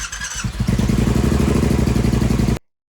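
A supercharged twin-turbo 2020 Triumph Bobber Black motorcycle fires up with a quick stutter, then settles into a loud, close, throbbing idle before cutting off abruptly.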